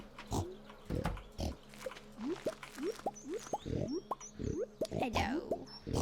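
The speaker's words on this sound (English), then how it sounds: "How are the piggies doing?" Pigs in Stardew Valley, a string of short, close grunting oinks in an uneven rhythm, with soft chirps and a brief voice mixed in.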